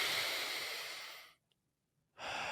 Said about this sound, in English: take some deep breaths with me